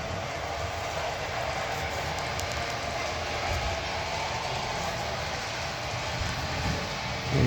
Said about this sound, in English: There's a train there. That's a pacemaker being run by a Hudson.